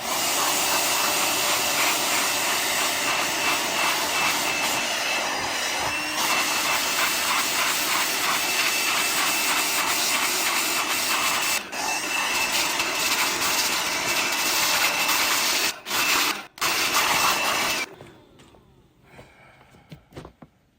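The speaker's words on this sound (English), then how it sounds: "the other thing I got to do is air out this filter, because it's been pretty dusty and dry here" Compressed air is blown hard through a dusty filter for about eighteen seconds as a loud continuous hiss, briefly interrupted near the end before it cuts off to quiet.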